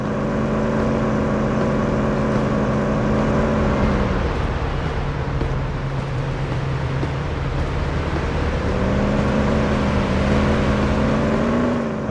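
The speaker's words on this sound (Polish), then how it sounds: "Ale jakoś tak ten silnik słabo brzmi." A car engine drives steadily in the police patrol game Police Simulator: Patrol Officers, a constant low hum throughout with pitch rising and falling as it changes speed, heard alone.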